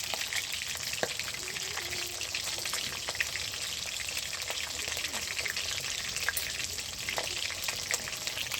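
Fish sizzles in a pan with a spoonful of butter, a steady close hiss of frying dotted with small crackles and pops throughout.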